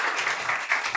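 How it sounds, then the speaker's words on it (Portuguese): Brief applause from the audience at the close of a live talk on large-scale event operations, a short burst of many hands clapping, fairly soft and steady. "Primeiro salva de palmas"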